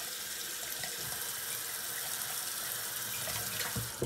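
Tap water running steadily into a bathroom sink while shaving lather is rinsed away, a close, even splashing hiss with no talk.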